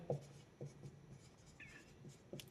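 An equation is written out during a Class 9 maths lesson. Faint, soft scratching strokes and a few light taps come from the writing surface in a quiet room.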